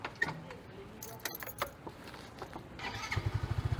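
Keys jangle close by, then a motorcycle taxi's engine starts and settles into a quick, even putter near the end.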